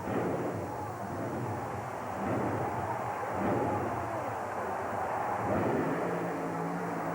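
A 1927 Ford Model T Roadster drag racer with a 2,000-horsepower supercharged Chevrolet engine launching hard off the starting line, a loud continuous roar with a rumbling, distorted character at an indoor racing event.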